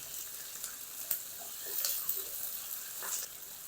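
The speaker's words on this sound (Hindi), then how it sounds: "लहसुन अदरक और हरी मिर्च को 1 मिनट तक फ्राई कर लिया है" Garlic, ginger and green chillies sizzle in a pan, a soft steady hiss with a few brief crackles and stirring sounds, faint and heard alone.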